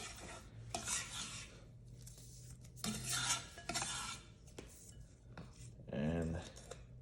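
Cut cabbage is dropped and pushed into a bowl in several bursts of crisp rustling and rubbing, quiet and close, with a brief bowl knock near the end.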